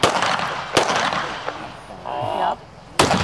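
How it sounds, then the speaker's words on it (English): Gunfire in a Terror Town video game on an All Hallows Eve map: several sharp, loud shots spaced across a few seconds, mixed with game sounds and background noise. "Oh, that's a gun."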